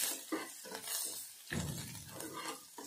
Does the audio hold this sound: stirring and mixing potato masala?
yes